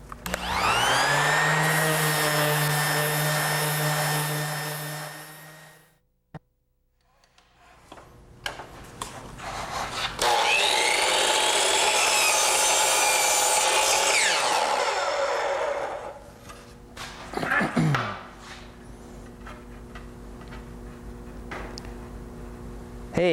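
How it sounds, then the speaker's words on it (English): A Delta 5-inch sander whines loudly against a cabinet door in a workshop, running in two long bursts with a brief pause between, steady high motor tone with sanding grit noise, no talk. "We're going to do a little sanding on a cabinet door here."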